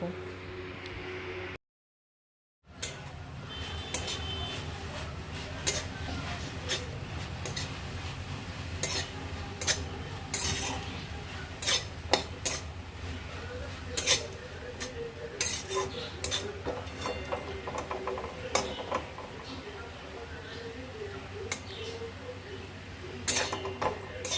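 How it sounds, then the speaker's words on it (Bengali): Susuni greens being stirred as they fry in a pan: repeated metallic scrapes and clinks of a utensil against the pan over a faint sizzle, steady throughout after a brief silent gap at the start. "দশ মিনিট পর ঢাকনা খুলে শাকটা নাড়াচাড়া করে ভাজা ভাজা করে নেব"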